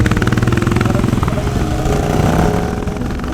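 A motorcycle engine roars loud and steady during a wheelie, its pitch sweeping upward as the rider shifts into third gear to manage the throttle, with no voices over the dense drone.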